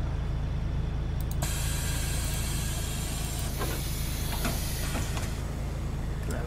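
Pneumatic doors of a MAN Lion's City double-decker bus on Berlin route 200 hiss and thud shut, a sharp burst of air over the steady low drone of the idling bus, followed by a few clunks and rattles.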